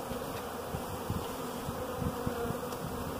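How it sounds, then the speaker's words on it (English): Honey bees buzz in a dense, continuous hum around a large cluster being trimmed away, steady and close with occasional louder passes of individual bees, no voices. "You still got about probably 20-30 bees on your hat."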